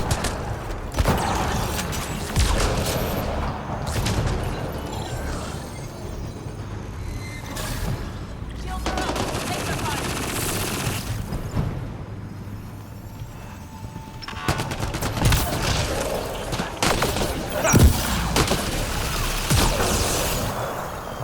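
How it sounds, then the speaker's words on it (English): Gunfire during combat in Mass Effect Andromeda, a sci-fi shooter game: continuous dense volleys of shots and impacts with explosive booms, moderately loud and sustained, with brief lulls and a few sharper blasts. "Have to shoot the gun to get more shields."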